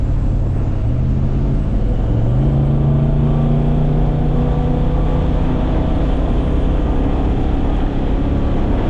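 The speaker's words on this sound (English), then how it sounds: "I just gave it a little bit of throttle and unlocked the converter" A Chevy C30 truck with a 4L80e transmission under light throttle, its engine droning loud and close with a rising pitch shift in the first few seconds, then settling into a steady heavy hum.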